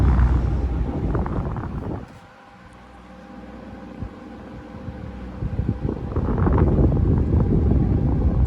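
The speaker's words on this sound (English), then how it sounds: "It's the most powerful 12-inch fan I've ever owned" A 12-inch Xpelair Taurus electric fan runs with oscillation on, a steady close whooshing airflow that dips and swells as the head sweeps past, with no talking.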